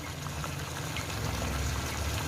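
Water streams steadily into a pot of frying beef for a Lahori street-style beef bong curry, a dense continuous sizzling gush with no talk over it.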